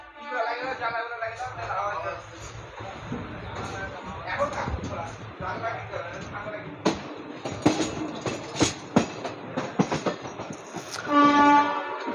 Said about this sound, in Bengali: ট্রেন পুরো ফাঁকা, আমাদের জেনারেল বগি ট্রেন।